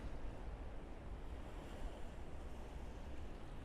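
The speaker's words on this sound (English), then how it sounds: "No boats, but the waves are pretty big for coming in from Tokyo Bay." Waves wash steadily on the Sumida River at night during an incoming storm, a continuous broadband rush with wind buffeting the microphone, with no voices or boats.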